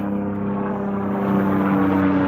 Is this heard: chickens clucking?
no